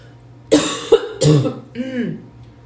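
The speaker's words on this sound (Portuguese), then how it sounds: "A gente tosse, é uma tosse seca horrível" A woman coughs a few times in short, harsh dry bursts close by, followed by a brief strained throat sound.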